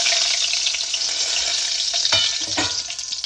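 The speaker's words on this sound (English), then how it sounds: "Now it's time to add all the seeds." Whole seeds sizzling in hot oil over a low flame while making mithi dal, a steady bright frying hiss with a few clinks of a spoon stirring the pan.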